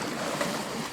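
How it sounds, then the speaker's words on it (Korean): An ocean sound effect from a voice changer app plays as a steady, full wash of surf-like noise with no pauses, moderately loud and heard alone. "그럼 진짜 바다 소리가 들려요."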